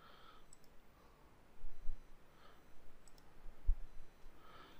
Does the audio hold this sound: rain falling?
no